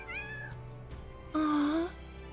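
A cat meows twice in Final Fantasy VII Rebirth, a soft, short first call and then a louder, drawn-out rising meow, close by over a quiet background.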